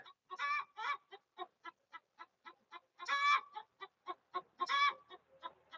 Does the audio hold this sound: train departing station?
no